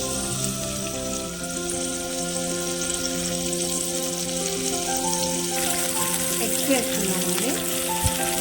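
Onions and green chillies sizzle in hot oil in a pan on a gas stove during village-style egg curry cooking, a continuous frying hiss with faint clinks near the end.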